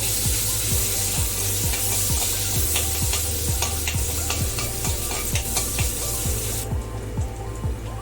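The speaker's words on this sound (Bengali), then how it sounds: "পেঁয়াজটা একটু ভাজা ভাজা হয়ে এলে তারপরে পেঁয়াজ বাটাটা দেব।" Onion and bay leaf frying in oil for prawn curry, with a loud, dense sizzle and a rhythmic series of spatula scrapes and taps as the pan is stirred. It is close and continuous, with no speech.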